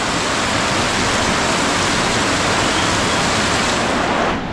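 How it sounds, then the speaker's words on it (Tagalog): Heavy rain pours down steadily as the flooding begins, a loud, dense, continuous hiss that holds without pause before cutting off abruptly at the very end. "Mga ilang minuto lang yung pag-ulan"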